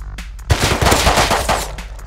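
Automatic gunfire in the video game Rust: several rapid bursts of loud, sharp shots crowd together, then trail off into a few spaced single cracks.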